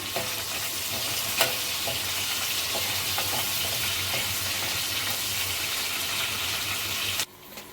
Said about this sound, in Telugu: జీలకర్ర, ఇవైతే ఒకసారి బాగా కలుపుకోవాలి.